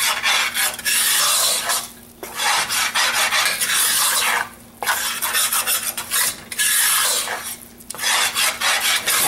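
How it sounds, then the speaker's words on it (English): A spoon scrapes steadily around a pot of Cajun roux, a loud, gritty rasp that runs in long strokes broken by brief pauses. A faint steady hum sits beneath it. "even though I've been stirring a long time, I don't want to burn it"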